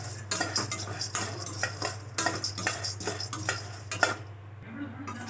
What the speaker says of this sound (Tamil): இப்போ பொட்டுக்கடலையை வறுத்து எடுத்துக்கலாம், நல்லா ஃப்ரை பண்ணி எடுத்துக்கலாம்.